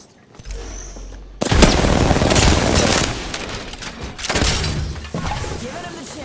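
Frag grenade explosions and gunfire in the video game Apex Legends, a quiet lead-in then a loud burst of blasts and shattering crackle sustained for several seconds, with a second surge later.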